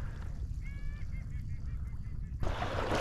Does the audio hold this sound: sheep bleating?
no